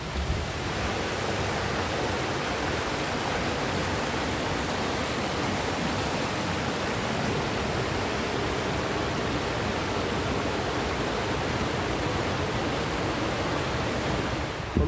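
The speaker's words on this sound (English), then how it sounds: "it's a waterfall." A waterfall at Nantcol roars in a steady, dense rush of water, constant and fairly loud, with no voices over it.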